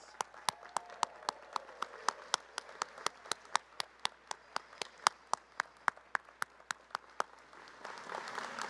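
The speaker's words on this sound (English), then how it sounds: "Graduates, let's give them a great round of applause." A small group applauds family and friends at a Master of Engineering Management hooding ceremony: sparse, distinct, evenly spaced claps, fairly faint and distant, with the clapping growing denser and louder toward the end.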